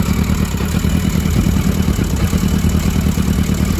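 A 1982 Yamaha Maxim XJ750 motorcycle engine, a barn find with freshly cleaned spark plugs, runs with a steady, loud, dense clattering rumble throughout, no voices.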